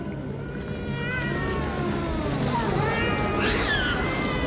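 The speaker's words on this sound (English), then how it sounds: "Is that the sound of a cat?" Cat meowing inside the Alone in the Dark video game, a rising and falling cry near the end, heard over a steady low background hum with faint game ambience.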